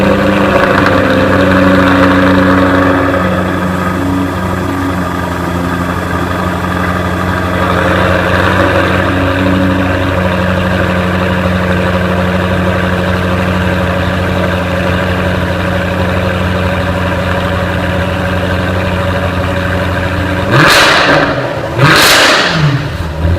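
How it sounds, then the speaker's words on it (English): A 2015 Jaguar F-Type R Coupe with a supercharged V8 idles loudly with a deep, steady exhaust burble, then gives two sharp revs near the end. "now let's turn on the engine and listen to the exhaust sound"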